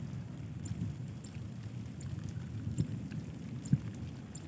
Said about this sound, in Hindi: अभी भी बादल गड़ज रहा है